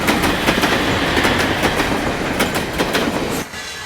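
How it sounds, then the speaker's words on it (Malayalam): A train rolls into a railway platform with steady clickety-clack of wagon wheels over rail joints, loud and close, rumbling continuously before the noise drops off sharply near the end. "ഒന്നാം നമ്പർ പ്ലാറ്റ്ഫോമിലേക്ക് ട്രെയിൻ വന്നുകൊണ്ടിരിക്കുന്നു"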